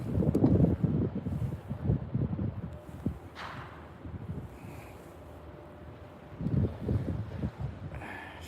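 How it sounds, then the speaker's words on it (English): Gusts of wind during a New York snowfall rumble and buffet the microphone in uneven surges, strong at the start, easing, then swelling again near the end. "The wind is picking up."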